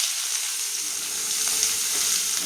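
Four finely chopped onions with curry leaves fry in hot oil with a loud, continuous sizzle and crackle, close and steady throughout, with no voices.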